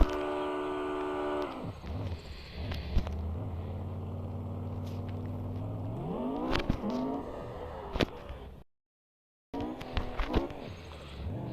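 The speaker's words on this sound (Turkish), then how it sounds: "Şimdi ben patinaj çekiyorum." Video game car spinning its wheels with the handbrake held and throttle applied: a loud, rising and falling engine whine with gear-like steps and screechy bursts, alone, cut by a brief gap near the end.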